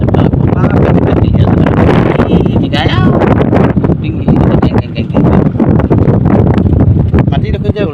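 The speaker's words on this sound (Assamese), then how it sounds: "দেহি ইমান বতাহ মাৰিছে এফালে ৰ'দ এফালে বতাহ" Strong wind gusts over an open field, buffeting the microphone in loud, continuous rumbling bursts with rustling, while a person speaks throughout.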